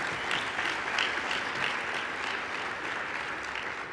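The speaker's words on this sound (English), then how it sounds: "Let's have a clap." Dense, steady applause from a conference audience filling the room, continuous clapping throughout with no voices on top.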